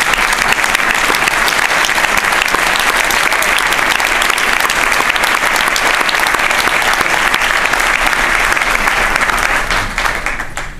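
Sustained loud applause from a convention audience honoring the band parents of the Winterset Junior/Senior Concert Band, dense steady clapping that fills the hall before tapering slightly at the end.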